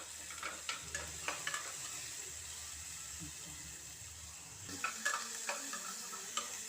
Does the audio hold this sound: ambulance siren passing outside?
no